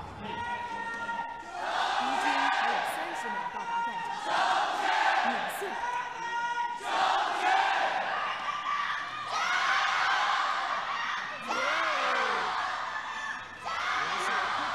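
A loud arena crowd at a 2018 LPL Spring Split League of Legends match cheers and screams for the home team in sustained surging waves, with shouted chants rising and falling throughout.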